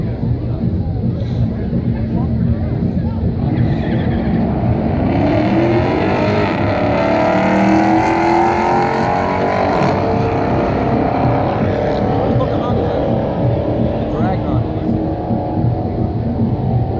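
On a street, a Corvette and a Charger race past with loud engine roar that swells and fades over several seconds, with people talking over the noise.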